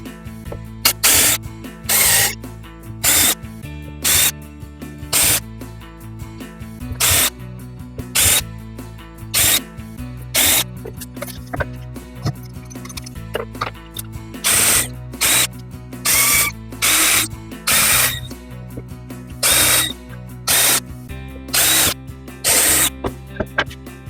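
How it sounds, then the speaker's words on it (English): A power drill bores holes in a StarBoard panel during a sunken boat restoration, running in repeated short whirring bursts of about a second each, separated by brief pauses, close and loud. "Now I'll do all my preliminary drilling on this before I peel this stuff off."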